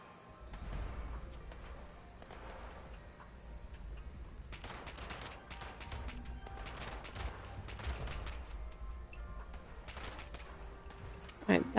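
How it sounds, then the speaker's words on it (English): Enemies shooting in a video game, sporadic bursts of gunfire of middling loudness with thumps and impacts scattered through, a voice talking now and then over the shots. "They can shoot at me all they want."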